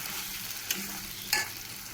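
Tomato paste sautés in a pan, a soft steady sizzle with two sharp stirring scrapes of a spoon against the pan.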